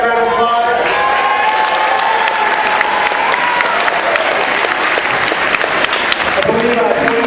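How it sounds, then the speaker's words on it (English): Steady, loud applause from an audience at a school's 50th anniversary event honouring a retired teacher, sustained dense clapping filling the room, with a voice briefly audible at the start. "Give Mr. Shire a nice round of applause."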